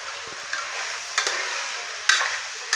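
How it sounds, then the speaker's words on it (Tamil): Potatoes, beetroot and other vegetables stirred in a pan for vegetable biryani: a soft, steady sizzle broken by a few sharp spoon clicks and scrapes against the metal, close up with no talking. "இதை நல்லா பெரட்டி விடணும்"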